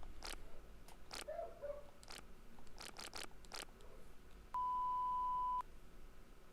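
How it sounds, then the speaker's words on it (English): A steady electronic beep tone sounds for about a second in the background music of the PS1 game Alien Trilogy, alongside sharp clicky in-game effects over a faint, low backdrop. "What's with the beeping?"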